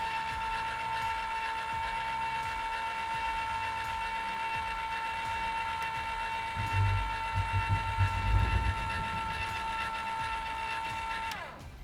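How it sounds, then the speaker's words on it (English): An electric trailer tongue jack on a new trailer runs down toward the hitch ball with a steady, even motor whine that holds for about eleven seconds and then cuts off, with a few low knocks near the end. "So we're gonna press the down button on your jack."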